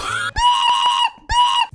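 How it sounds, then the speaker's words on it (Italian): A person shrieks in two long, piercing, high-pitched screams separated by a brief gap, loud and close, with no talking. "l'urlo di questa persona ha fatto volare il ratto"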